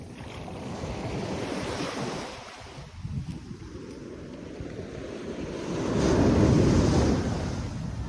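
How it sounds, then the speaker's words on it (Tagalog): Ocean waves breaking on the shore at a beach resort, a continuous roar of surf with wind buffeting the microphone, swelling into a louder crashing wave near the end. "lakas na nakabot ng alon"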